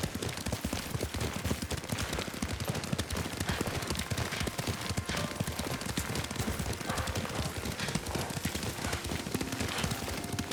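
Horse hooves pound rapidly and steadily while riding in the video game Ghost of Tsushima, a dense galloping clatter that runs the whole time, moderately quiet and not masked by talk.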